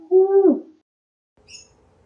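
A pigeon gives a single low, soft coo up close, followed after a pause by a faint, brief higher chirp over quiet background.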